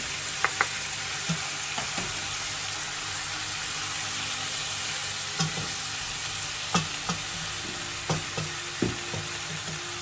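Egusi stew sizzling steadily in a pot as it cooks down, with a constant broadband fry and occasional spoon scrapes and clinks against the pot, no talking.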